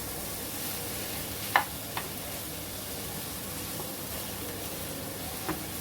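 Vegetables frying in a pan with a constant hissing sizzle, with a few faint spatula taps and scrapes as they are stirred, moderately quiet and close, no voices.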